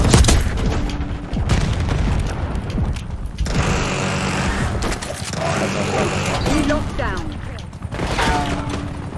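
Missile blasts and gunfire from the Archangel controlled missile in Call of Duty: Black Ops 6 multiplayer on the Babylon map, with booming explosions and bursts of fire running throughout beneath excited voices.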